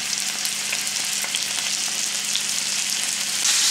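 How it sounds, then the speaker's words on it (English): Steady, loud sizzling of peppered bacon frying in butter in a pan, continuous crackle and hiss with no talking. "I'm melting butter, about a spoonful of butter in the frying pan, and I've got some peppered bacon in here."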